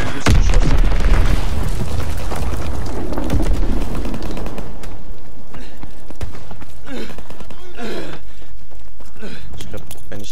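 An enemy bomb explodes in the World War II shooter Call of Duty: WW2, with a heavy booming blast up front and rumbling debris. Scattered gunshots follow while a voice talks over the action.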